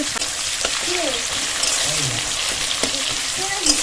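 Chopped onion sizzles and crackles in hot mustard oil during village-style cooking. The frying hiss is steady, with stirring clatter and a faint voice in the background.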